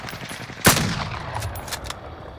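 In a Call of Duty: Warzone match, a sharp, loud gunshot lands close by, followed by a few lighter scattered shots and a low lingering rumble.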